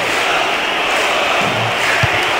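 A stadium crowd in the PS2 game Winning Eleven 10, at a Liga Paulista match of Oeste against Ferroviária, keeps up a loud, dense, continuous roar of cheering, with a brief low thump near the end.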